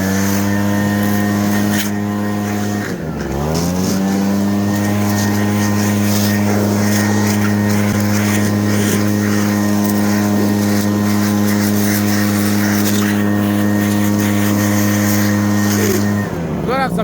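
A power blower from Temu runs loud and close with a steady whining engine drone that dips and recovers briefly early on, then holds an even pitch throughout.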